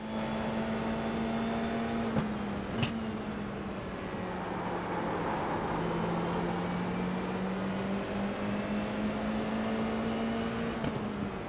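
A Porsche race car's engine drones in a racing video game, holding a steady buzzing pitch that dips and rises slightly over a continuous, even rumble.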